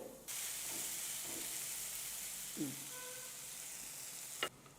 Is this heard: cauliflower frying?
yes